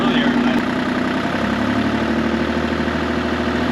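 Diesel engine of a mini-excavator idling after a restart, a steady low rumble with even, smooth firing throughout, close and continuous.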